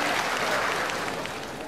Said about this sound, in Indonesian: ya tepuk tangan ini